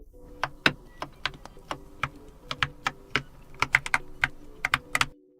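Fingers tap steadily across the keys of a Keychron K8 QMK mechanical keyboard, crisp clacks in an irregular typing rhythm, close and alone in a quiet room.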